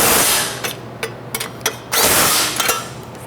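Bolts being tightened while a mud motor turbo is installed: a run of short, sharp metallic clicks and scraping bursts, close and fairly loud, with no talking.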